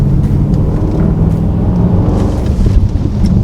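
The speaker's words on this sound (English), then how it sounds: "Let me give it a quick little downshift here and go for it." A 2018 Range Rover Sport Supercharged with its 5.0 V8 downshifts, its engine giving a loud, deep, continuous rumble that holds steady throughout with no talk over it.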